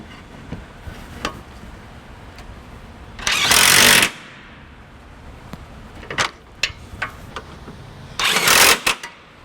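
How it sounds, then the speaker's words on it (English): A power tool with a socket tightens the nuts on a trailer hitch for a 2019 Chevrolet Cruze, giving two short, loud whirring bursts of about a second each, with scattered metallic clicks and clanks between them. "Now I'm going to go ahead and tighten them down with my socket here."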